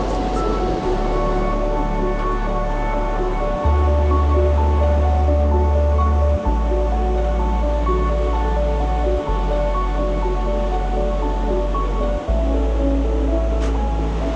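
Iguazu Falls thunder in a continuous, loud, dense roar of cascading water, heard close and steady with no speech over it.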